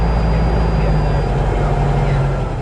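A Cabri G2 helicopter engine starting up, a loud steady low rumble with a strong drone and a faint high whine, continuous throughout.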